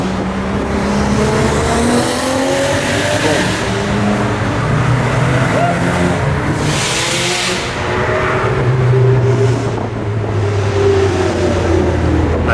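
Lexus IS300 fitted with a 1JZ engine at a night car meet: a loud, steady engine drone with rising and falling revs, and other cars' engines mixing in nearby.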